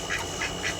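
Pet ducks give three short, evenly spaced quacks, close and fairly clear, in under a second.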